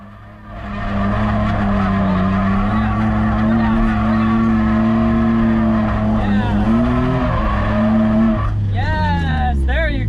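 A Nissan 350Z drifts on a partly wet track, engine droning loudly and continuously with pitch swings and a rising tire squeal in the final seconds.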